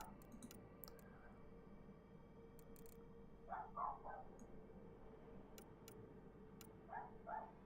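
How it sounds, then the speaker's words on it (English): A dog outdoors making noise, heard faintly as a few distant short barks in pairs over a low constant hum, with scattered light clicks. "And my dog making some noise outside."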